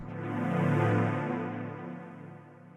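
A warm, sustained pad chord from a MicroFreak synthesizer swells in and slowly fades, smooth and steady with no talking.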